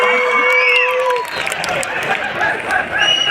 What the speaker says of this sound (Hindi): अपने टीचर महबूब टीचर के लिए देख रहा हूँ ज़्यादा ताली बजाते हैं